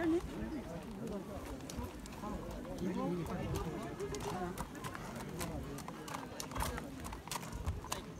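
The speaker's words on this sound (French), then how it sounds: "C'est beau, c'est beau ces chevaux, ces petites pattes qu'ils ont." Racehorses galloping at a French racecourse: a continuous rumble of hooves and track noise, heard from the stands under nearby people chatting throughout.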